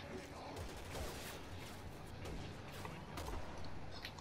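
Sniper gunfire in the video game Resident Evil 6 crackles through a dense, continuous wash of in-game noise, with sharp shots scattered across the whole stretch.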